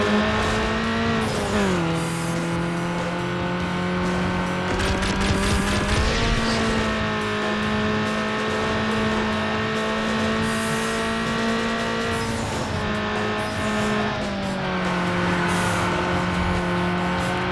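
Race car engine from Need for Speed: Underground, a 1999 Acura Integra Type R, held at a loud steady drone with brief dips and shifts in pitch as it accelerates, with faint tire noise and no talk.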